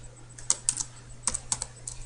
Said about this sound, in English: I execute that by typing out Java